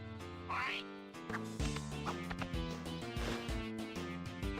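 Quacking bird calls from the Ace Attorney Investigations 2 video game, a short nasal squawk rising near the start and a few more scattered calls over steady game music.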